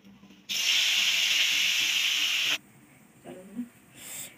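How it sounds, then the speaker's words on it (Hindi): Thin-sliced peeled bottle gourd drops into hot ghee and sizzles loudly for about two seconds, then the hiss cuts off abruptly, leaving faint, quiet kitchen noises. "हमारा घी गर्म हो गया है, अब हम लौकी को पकाएंगे घी में।"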